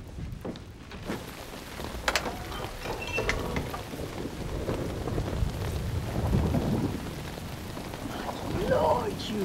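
Steady rain falls on a cold, stormy night, with low rumbling thunder rolling beneath the constant patter and a few louder drops and gusts, no talk over it.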